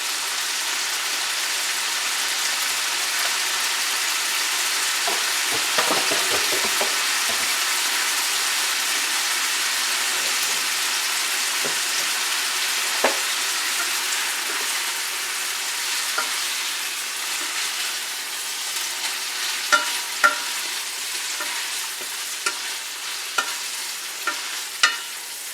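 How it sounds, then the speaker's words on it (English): Food sears in a pot for Louisiana gumbo, producing a steady, loud frying sizzle that runs the whole length, with occasional scrapes and louder crackles toward the end. "Give that about another minute to get just a little gentle sear."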